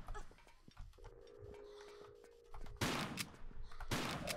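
Shotgun blasts in the video game Tomb Raider III, two loud sharp booms late on after a stretch of quieter game noise with a steady hum and scattered clicks.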